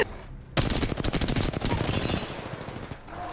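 Video game gunfire, a loud, close burst of rapid automatic shots that starts abruptly and runs for about two seconds before fading into quieter background sound.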